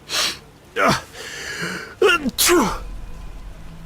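A loud, close video game sneeze with a sharp inhaled buildup, followed by gasps and a snort-like breath, with vocal sounds around it.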